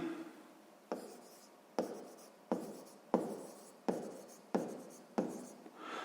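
Pen writing a math solution on paper, heard as a close, quiet scratching in seven steady strokes, each starting with a sharp tap and fading, with no talking.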